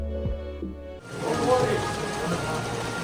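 Heavy rain falls steadily at a hotel on Rhodes, a dense, close hiss of drops on surfaces that starts abruptly after a brief burst of music.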